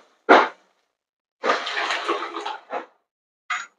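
Ground pigeon pea paste thinned with water is poured into a tempered Vidarbha-style curry, giving a sharp splash followed by a longer gurgling pour, then two short splashes, close and clear with no talk.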